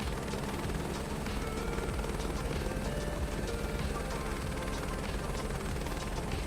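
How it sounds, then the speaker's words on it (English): A Wasp helicopter in Microsoft Flight Simulator 2024 holds a dense, steady rotor and turbine roar, loud and unbroken from start to finish, with no voices over it. "I like the Wasp. That's a fun helicopter to fly."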